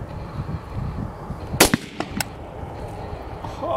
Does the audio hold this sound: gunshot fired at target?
yes